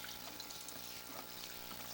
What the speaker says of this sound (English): The reason that we like to run water during our inspections